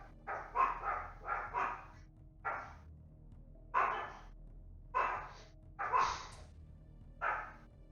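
Dogs bark in a string of about nine quick woofs, some grouped closely and others spaced apart, muffled and moderately distant in an otherwise quiet room.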